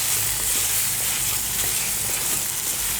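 Drumstick (moringa) pieces frying in a pan, giving a steady, close hiss and sizzle that continues evenly throughout with no talk.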